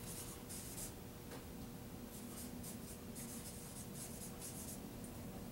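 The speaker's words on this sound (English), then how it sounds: "I want you to write this down in your homework journal." A pen or pencil scratches across paper in short, steady strokes, faint and close against a constant background hiss, with no voices.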